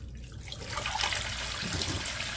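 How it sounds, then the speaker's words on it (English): Water gushing steadily from a tap during a washing machine filter cleaning job, a loud continuous rushing stream with no talking over it. "Oh, that's a lot more water than I thought."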